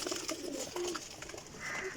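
Pigeons cooing nearby, soft low murmuring calls repeating over a faint background, with no voices.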